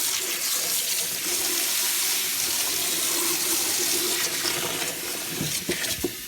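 Water runs steadily from a tap while a fodder tray for hens is rinsed out, a close, constant hiss and splash with a few small clunks toward the end.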